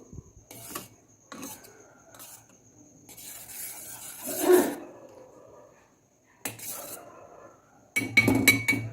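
About a litre of boiled milk is stirred in a pot, giving short intermittent scraping and rubbing strokes against the metal with quiet pauses between them.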